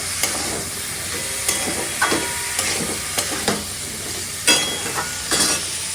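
Prawns and tomato masala sizzle and fry in a pan while a spoon stirs and scrapes in repeated knocks, close and steady with no talk.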